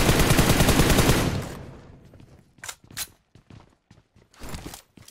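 Rapid automatic gunfire in a shooter video game, loud and sustained for over a second, then scattered shorter bursts and single shots trailing off into quieter distant firing.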